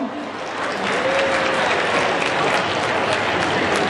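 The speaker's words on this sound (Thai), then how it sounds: "ขอเสียงปรบมือด้วยนะครับผม" Audience at a Thai film press event claps in a dense, sustained burst, loud and close, with a brief voice heard under the applause.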